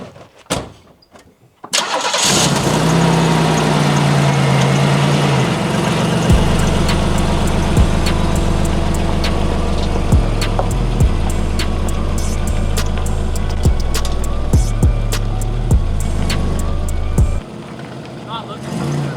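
A lifted Buick fitted with airbag suspension starts up and drives off, its engine catching after a brief crank, then a loud, steady mid-pitched engine drone with shifting revs and people talking over it.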